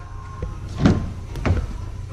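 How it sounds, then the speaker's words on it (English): Doors on a 2017 Honda Pilot being opened at a dealership, giving two distinct thunks and latch clicks about half a second apart, moderately close, with no talk over them. "I'm going to go ahead and walk around and open up the doors just so you can see the interior a little bit better."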